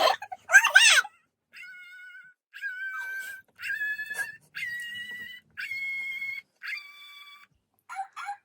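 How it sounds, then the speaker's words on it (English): A dog barks in a run of high, drawn-out yelping calls, about eight in a row with short gaps, fairly close and clear. "How often is Cynthia barking?"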